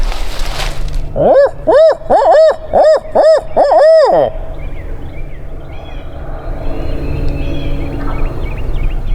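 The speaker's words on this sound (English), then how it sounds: "There he gobbled." A series of about six rapid, rising-falling gobbling calls from a wild turkey, fairly clear at a distance, followed by quiet outdoor ambience.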